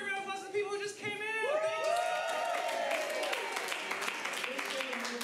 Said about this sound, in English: give a big round of applause to the people who just came in